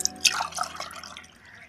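Water splashes and trickles into a container, starting with a few sharp drips and settling into a soft, fading pour.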